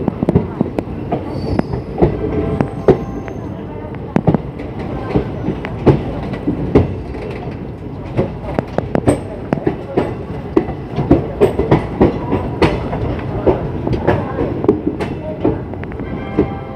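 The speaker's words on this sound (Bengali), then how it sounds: "আর এই ট্রেন সোজা গিয়ে দাঁড়াবে একবারে মালদা টাউন রেল স্টেশনে।" A Holi special passenger train from Kolkata toward Darjeeling runs between Farakka Junction and Malda Town. It sounds like a continuous rumble with repeated rail clicks and occasional sharp wheel squeals, heard from onboard.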